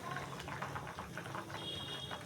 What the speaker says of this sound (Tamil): இது இதோடு சேர்ந்து நல்லா கொதிக்கட்டும்